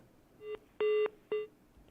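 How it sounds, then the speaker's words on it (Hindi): Three electronic telephone tones ring out after a call drops during a live news broadcast, a short beep, a longer one and another short one, clear and steady with no talking. "फोन काट गए हैं, ऐसा लग रहा है, दोबारा फिर से जुड़ने की कोशिश करेंगे"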